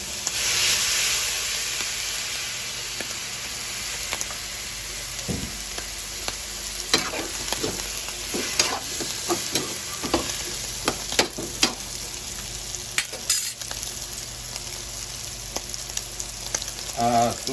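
Chicken feet adobo sizzles and fries steadily in a pan as vinegar is added. A constant loud hiss carries scattered crackles and pops, with no talking.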